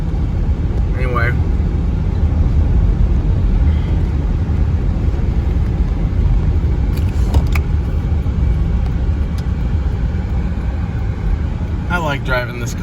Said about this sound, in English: I like driving this car.